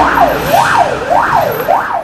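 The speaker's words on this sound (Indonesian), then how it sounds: "kalau yang ini mobil pemadam kebakaran." A toy fire truck's electronic siren wails in a steady rising-and-falling cycle, about four sweeps in two seconds, loud and close with no talking.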